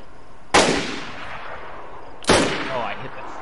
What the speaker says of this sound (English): Yeah, I shot him.